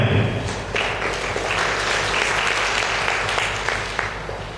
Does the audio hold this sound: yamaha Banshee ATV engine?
no